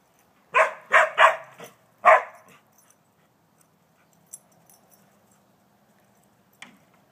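A dog chasing a squirrel up a tree gives four loud, close barks in quick succession, then the scene falls mostly quiet apart from a few faint knocks.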